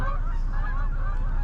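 A flock of geese honks repeatedly as it flies overhead, the calls loud, overlapping and fairly close, with no talking over them.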